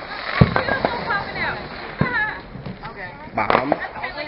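Fireworks popping and banging outdoors, several sharp blasts scattered among whistling, crackling bursts, with voices talking over them.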